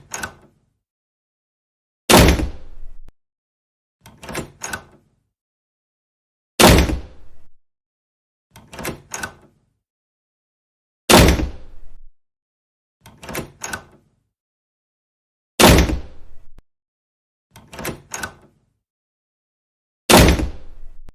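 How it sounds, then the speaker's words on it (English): A door slams shut again and again, loud sharp bangs spaced every couple of seconds, sometimes with a softer knock or rattle in between. "Now, it's your turn to slam the door."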